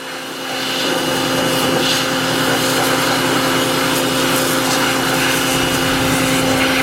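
A rough, worn junkyard LS V8 running steadily and loud, a continuous droning engine tone with a harsh mechanical rasp throughout, no talking over it.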